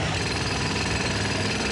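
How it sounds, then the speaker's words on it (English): A jackhammer pounds through two-foot-thick concrete at a walkway collapse site, a rapid, loud, continuous hammering rattle that runs without pause, close by and with no voices. "Jackhammers are brought in to try and break through the 2-foot-thick concrete that entombs them"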